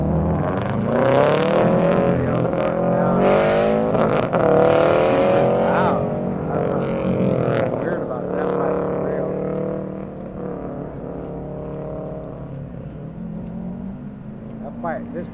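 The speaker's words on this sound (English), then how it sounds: "This pipe on this Subaru is louder than Aaron's" A Subaru with a loud aftermarket exhaust pipe runs at an autocross event, its engine droning and revving steadily through the whole stretch while a person talks over it nearby.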